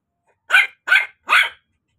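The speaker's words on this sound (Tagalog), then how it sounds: "Si Winter po yung maingay na yan." A dog barks three times in quick succession, loud and close, with short pauses between each bark and silence around them.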